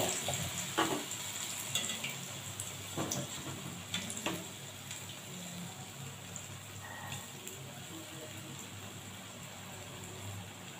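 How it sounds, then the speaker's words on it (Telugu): Urad dal vadas deep-fry in oil over a low flame, giving a steady close sizzle with scattered faint pops and crackles throughout. "డీప్ ఫ్రై చేసుకోవాలి."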